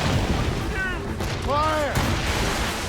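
Ship cannons firing in the game Assassin's Creed Rogue, heavy booming blasts inside a dense, loud battle roar, with brief tonal calls rising over the din.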